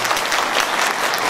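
Audience applause fills the room at an investor awareness program, a dense, steady burst of many hands clapping at once, fairly loud and sustained throughout with no talking over it.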